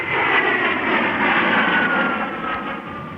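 A Grumman A-6E Intruder jet aircraft roars in a loud, steady, close engine drone that holds without a break, with no other sounds over it.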